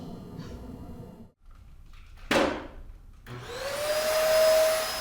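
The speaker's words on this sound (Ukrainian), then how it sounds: "пилососить, миє підлогу, протирає поверхні та виносить сміття" A vacuum cleaner runs at night in a care home in Seattle, whirring steadily, briefly cutting out, with a bump of a door or furniture before the motor spins up again to a loud, rising close whine.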